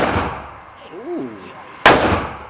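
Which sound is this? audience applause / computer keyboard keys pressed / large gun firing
large gun firing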